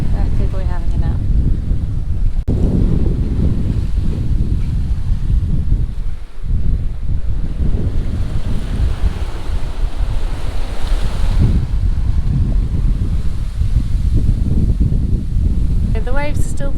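Strong wind and rolling ocean swell while sailing in the Bahamas, a continuous loud rush of wind buffeting the microphone over surging waves, steady throughout.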